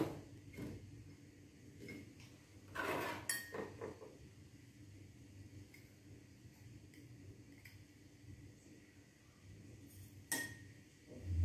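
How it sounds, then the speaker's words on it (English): A spoon stirring red chili flakes in a container of water, giving quiet, intermittent clinks and light scraping against the vessel, with a couple of louder taps. "I'm gonna stir it properly."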